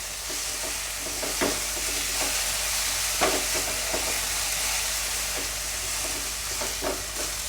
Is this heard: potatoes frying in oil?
yes